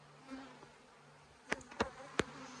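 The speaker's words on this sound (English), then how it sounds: "There's just so many damn bees in here." Honeybees buzz steadily around an open beehive during a fall honey flow, a soft continuous drone with a few louder bees passing close by in quick bursts near the end.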